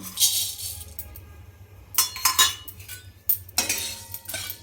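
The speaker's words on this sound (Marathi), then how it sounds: "धन्याचा पण सुगंध सुटेपर्यंत आपल्याला भाजून घ्यायचं" Coriander seeds are dry-roasted in a hot pan for chakli flour, stirred so they rattle and clink against the metal in close, sharp bursts separated by quieter pauses.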